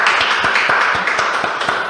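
Rhythmic hand clapping keeping a steady beat at a live music radio session with a pagode group, about eight evenly spaced claps over a dense wash of background noise.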